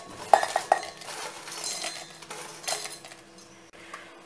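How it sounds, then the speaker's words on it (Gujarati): Dried raw mango chips are tipped into a steel mixer jar, starting with a few bright clinks and then giving way to softer rattling and scraping that fade toward the end. "હવે આપણે આને મિક્સર જારની અંદર લઈ લઈશું"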